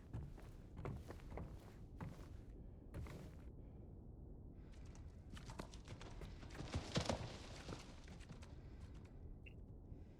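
Horse hooves clip-clop in the Silent Hill 2 Remake, a string of irregular hollow knocks that are sparse at first and then thicken into a busier cluster over low ambient rumble, with no talk.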